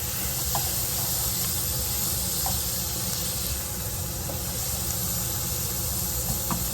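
Food starting to cook in a pan for a quick budget dinner, a loud steady hissing sizzle that holds evenly throughout with faint small pops, close up and without voices.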